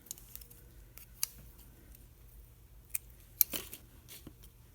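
Scissors cutting off a piece of material for a small peg stamp craft, a handful of sharp, close snips spread unevenly amid quiet handling.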